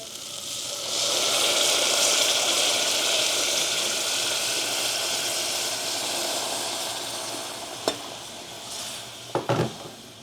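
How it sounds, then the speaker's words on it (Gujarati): Water pours into a pressure cooker holding mung beans and fried spices, making a loud, steady rushing hiss that slowly fades. A few sharp metallic clacks follow near the end. "ચલો તો હવે પાણી નાખી દઈએ."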